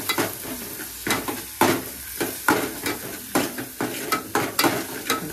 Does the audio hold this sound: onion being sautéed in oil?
yes